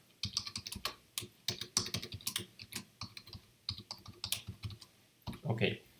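Rapid typing on a computer keyboard while Java code is written, a steady run of close, crisp key clicks with brief pauses and a denser burst near the end.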